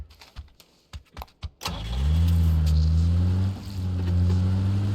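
In the video game PUBG a car's engine starts after a few clicks and knocks, then revs up loudly and holds a strong droning note as the vehicle drives off, easing briefly before climbing again.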